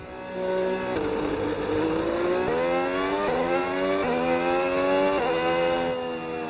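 The Red Bull RB22 Formula 1 car in the video game F1 26 screams at high revs, its pitch climbing and dropping with each rapid upshift in a loud, continuous run with no talking.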